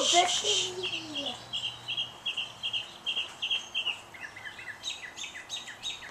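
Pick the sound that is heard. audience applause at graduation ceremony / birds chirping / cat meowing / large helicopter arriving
birds chirping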